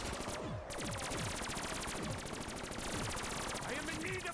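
Video game gunfire, a dense and continuous automatic burst of rapid shots that stays loud and steady throughout, with voices faintly underneath.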